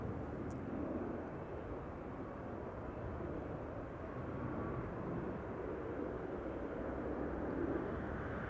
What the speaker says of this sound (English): You can hear the airplane.